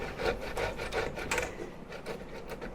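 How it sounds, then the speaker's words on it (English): Raw beetroot being grated by hand for a salad: a steady run of rhythmic, raspy scraping strokes, close and moderately loud, with no talking. "So that's just nicely grated."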